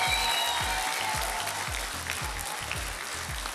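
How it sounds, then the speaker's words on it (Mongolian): Audience clapping at a Mongolian song gala concert, a steady patter of claps, with some strong claps standing out in a regular rhythm, moderately distant and without talk over it. "За бүгд алга ташаа өө"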